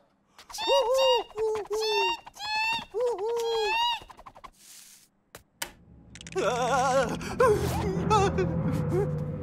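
In a cartoon, a voice imitates a bird call with a series of warbling, chirping whistles in short repeated phrases. A burst of loud, chaotic gasping sound effects follows.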